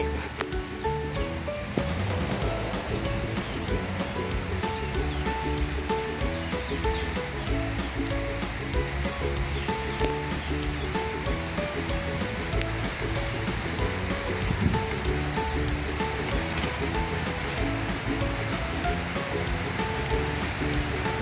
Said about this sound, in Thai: ฝนตกอย่างนี้